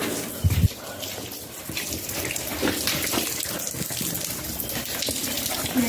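Steady rushing and splashing water fills the space, echoing slightly, with faint voices nearby.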